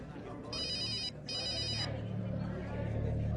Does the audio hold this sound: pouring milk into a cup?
no